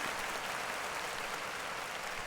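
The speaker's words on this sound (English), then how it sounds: "Keep it going. Clap it up" Crowd clapping at a lively Monday-night event, a dense, even patter of many hands throughout, fairly distant and unbroken.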